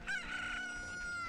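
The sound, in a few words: chickens clucking in Zelda: Ocarina of Time video game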